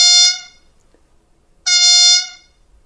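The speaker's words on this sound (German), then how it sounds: "Ich spiele hierzu einfach mal die Hupe ab" A loud, bright horn blast from the small speaker of a Märklin H0-scale road-rail Unimog model sounds twice with a tinny, harmonic tone, each lasting about half a second to a second, separated by a pause.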